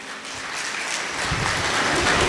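Audience applause greeting musicians at a devotional Bhagavat katha music gathering, a steady mass of clapping that swells louder after the first second and keeps going to the end.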